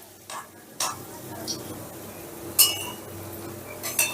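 Egg pieces frying in a pan for egg chilli, with a soft low sizzle beneath several sharp clinks and scrapes of a spoon against the pan, close up and spaced irregularly.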